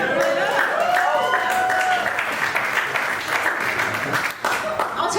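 Scattered audience clapping during a comedy club stand-up set, brief and modest beneath a continuing hum of room noise and crowd murmur.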